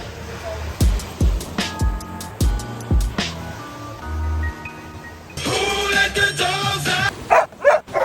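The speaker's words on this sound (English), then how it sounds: "There are a lot of dogs in Thailand." Dogs in Thailand bark in a string of sharp, repeated yelps and bow-wows, loud and close, over a busy outdoor background with passing traffic and a brief burst of other noise near the end.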